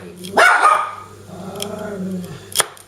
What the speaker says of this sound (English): Haze, which is my shooting dog, my gun dog shall I say